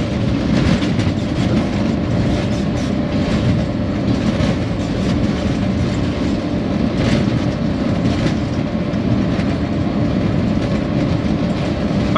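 A Pakistan Railways locomotive runs through Lahore Cantt station at around fifty, giving a loud, steady rumble with rhythmic wheel clatter that holds constant and close for the whole stretch.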